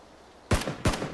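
Two sharp gunshot bursts from PUBG gameplay, a player fired upon near a vehicle, arrive about a third of a second apart after a near-silent start, loud and close.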